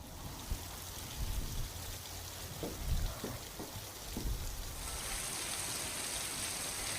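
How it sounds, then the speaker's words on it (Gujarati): Heavy rain pours in Dhoraji, Rajkot, during a thunderstorm: a dense, steady hiss with scattered drips and splashes that swells louder toward the end, with no voices. "આજે પણ ગાજવીજ સાથે વરસાદ વરસ્યો"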